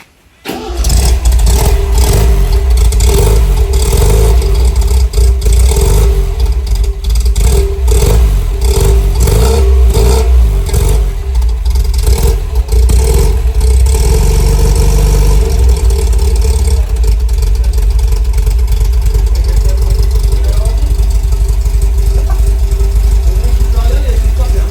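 An MGB GT engine fires up for the first time in 15 years: a starter crank, then a catch into a loud, rough, uneven running idle with occasional revs that carries on steadily, while people talk over it.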